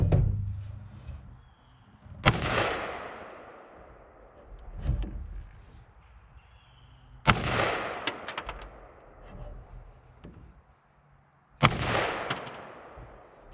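A Bear Creek Arsenal 223 Wylde AR15 rifle firing unexpectedly as its bolt closes, three sharp, loud reports spaced several seconds apart, each with a ringing outdoor echo, plus quieter mechanical clacks between them.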